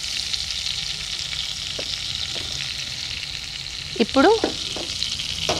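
Butter melting in a pan over a low flame for spicy butter chicken gives a steady, gentle frying hiss, and a voice briefly speaks near the end.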